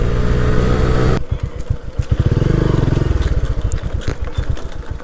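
A Vikrant V12 motorcycle engine revving as the rider shifts from first into second gear, a loud throbbing putter that rises and settles with each gear change, close by and with no talk over it.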